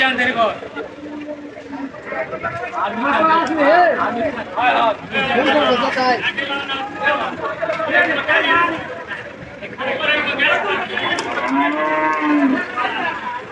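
Cattle at a cow market in Joypurhat bellow in long, loud overlapping moos, one after another, over a busy crowd of voices talking and haggling nearby.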